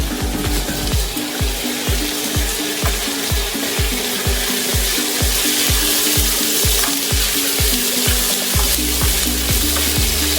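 A vegetarian paneer dish sizzles in a pan while being stirred, giving a continuous loud frying crackle with steady spattering close by.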